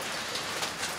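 Steady rain patters with a soft, even hiss, fairly quiet and unbroken throughout.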